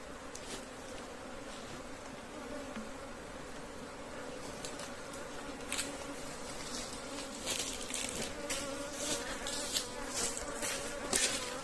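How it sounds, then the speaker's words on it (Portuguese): Honeybees buzzing steadily at close range during a hive split, as the colony is moved into a new box in an apiary; a dense, continuous drone with individual bees passing near, no talk. "Então eu vou transferir essas abelhas para essa caixa"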